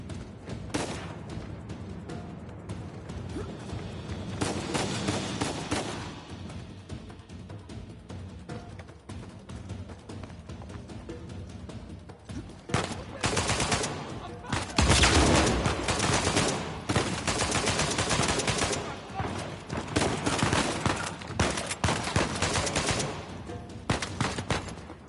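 Gunfire in the Uncharted 4 video game, sustained bursts of rapid automatic fire and shots coming in waves over a long stretch, loud and dense, with louder volleys in the second half.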